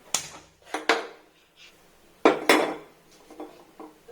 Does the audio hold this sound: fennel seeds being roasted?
yes